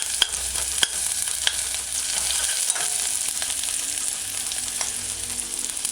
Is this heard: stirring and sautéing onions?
yes